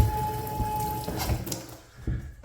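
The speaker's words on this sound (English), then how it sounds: "run some water" Water runs steadily from a bathtub faucet with the drain stopper down, a broad continuous rush that thins toward the end, with no voices.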